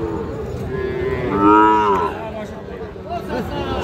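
A Sahiwal bull calf at a cattle market gives a single loud, drawn-out moo, close by, over a steady background of market murmur.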